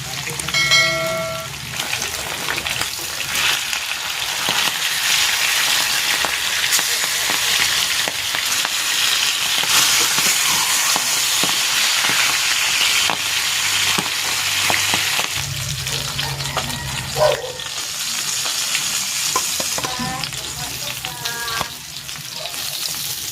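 Flour-coated bangus (milkfish) frying in oil, a loud, continuous close sizzle and crackle with occasional clinks of utensils, with some talking underneath.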